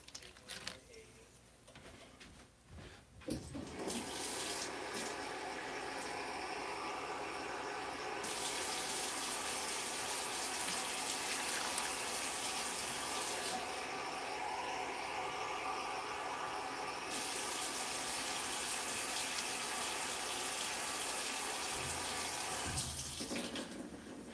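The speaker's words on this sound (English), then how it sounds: "So you just want to fill the rest of the container with water to a comfortable fill line." Tap water pours steadily into a container, a continuous rushing splash that starts after a few seconds and holds at an even level to the end, with no voices over it.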